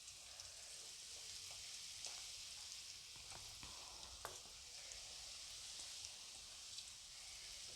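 A snack crisps in hot oil with a quiet, continuous sizzling hiss close by, dotted with small sharp pops and crackles.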